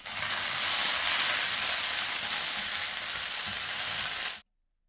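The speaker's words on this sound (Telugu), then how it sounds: "ఇప్పుడు ఈ మిరపకాయల్ని కూడా దోరగా వేపుకుందాం." Green chillies and curry leaves fry in hot oil for a tomato coriander chutney, a loud dense crackling sizzle that holds steady at close range and then cuts off abruptly, with no talking.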